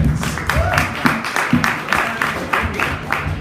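Loud, continuous clapping from a comedy club crowd, rhythmic and close, with occasional whoops and crowd noise riding over the steady patter for several seconds.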